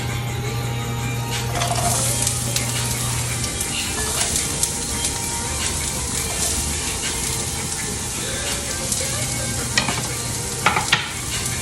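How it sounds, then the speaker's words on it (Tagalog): Onions sautéing in a pan for shrimp cooked in coconut milk, a loud continuous sizzle with frequent stirring scrapes and clinks, while a steady low hum and faint background music run underneath. "So, gigisa muna natin yung sibuyas."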